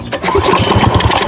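A Predator 212cc small engine fitted with a stage one kit runs steadily just after starting, a loud, close, rapid chugging putter with an even, fast rhythm.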